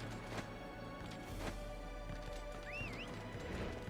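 A horse in the video game Warriors Orochi 3 gallops with clip-clopping hooves and lets out a whinny partway through, set against game music and faint ambient noise.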